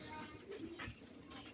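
A fancy domestic pigeon coos softly and briefly at close range in a quiet room, with faint low murmuring in the background.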